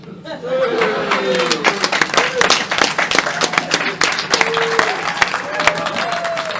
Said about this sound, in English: How about a round of applause for our esteemed panel of experts?